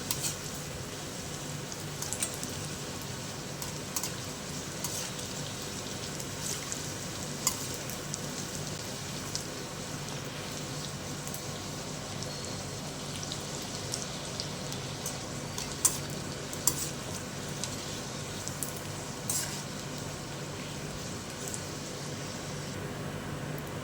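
Bhatura deep-frying in hot oil, a steady even sizzle and crackle that holds throughout with small pops, close and moderately loud, no talking.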